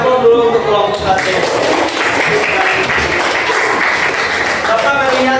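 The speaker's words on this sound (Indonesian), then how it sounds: "Beri aplaus dulu untuk kelompok satu" Audience applause for the first group in a school classroom presentation, a steady wash of clapping sustained throughout, loud and close, with talk mixed in.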